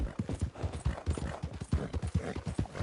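Horse hooves clip-clop in the Red Dead Redemption 2 video game, a brisk, even run of close hoofbeats that keeps going throughout with no one talking.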